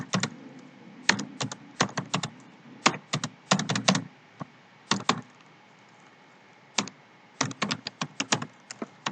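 Python code being typed on a computer keyboard: close, crisp keystrokes in quick irregular bursts separated by short pauses, with no talking.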